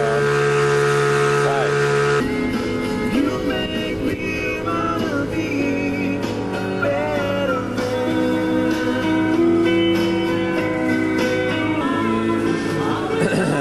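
An O'Day 25 sailboat motors out through Venice Inlet on its inboard or outboard engine, a steady low drone with tonal hum running throughout after a brief quieter opening, with a voice talking over it.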